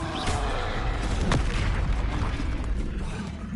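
In the Hogwarts Legacy video game, the Expelliarmus spell is cast, producing a booming magical blast with a sharp impact crack and a rumbling low-end tail over continuous combat noise.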